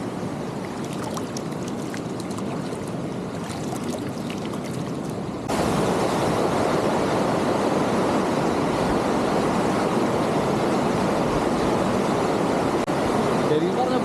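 The Siruvani River in Attappadi rushes in a dense, loud wash of flowing water, quieter at first and then a close, steady roar for the rest.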